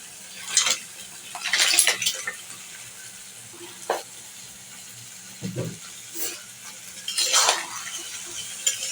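Washed crabs are tipped into a pan of fried spices, bringing scattered clinks of shell and utensil against metal, soft scraping stirs and a few sharper knocks, close by and separated by quiet gaps.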